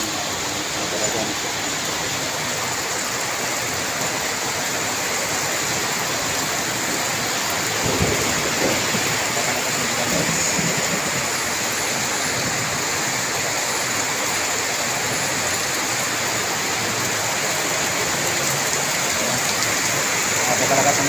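Heavy rain pours down steadily and loudly for the whole stretch, a dense unbroken hiss with a slight swell partway through and occasional faint voices in the background.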